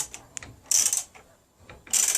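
A tool turning on the jammed damper rod of a Triumph Bonneville America fork, clamped to a desk, gives a few short metallic ratcheting bursts with quiet gaps between them, close and fairly faint.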